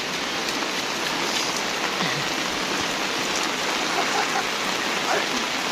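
Steady, heavy rain falling and pattering on surfaces, a continuous wash of noise with faint scattered sounds beneath it.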